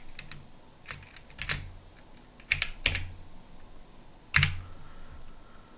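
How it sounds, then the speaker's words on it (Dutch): Computer keyboard typing while a name is entered into electrical schematic drawing software, heard as scattered key clicks in short bursts, close and clear with no talking. "dan typen we hier ook een naam"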